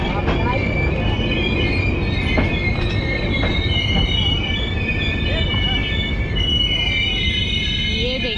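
A fully air-conditioned economy-class Gati Shakti Express train runs steadily along the railway track, its wheels squealing loudly and continuously throughout, with faint voices in the background.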